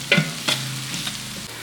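Red chillies, crushed black pepper and spices for Betong chicken soup stir-fried in a pan: a few quick scraping stirs over a continuous low sizzle, heard up close with no voices.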